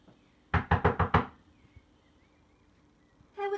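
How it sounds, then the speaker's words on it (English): A second round of knocking on a cottage door in a Snow White story, five firm, evenly spaced raps close up, then quiet, with a voice beginning to speak at the end. "She knocked at the door again."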